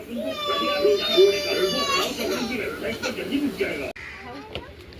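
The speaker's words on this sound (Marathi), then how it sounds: "किती रडते बा कशी बघा." A young child cries in a sustained, high wailing sob with rising and falling pitch, close and loud, before it cuts off abruptly, with some background voices.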